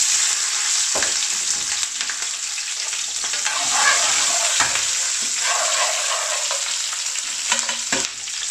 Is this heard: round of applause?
no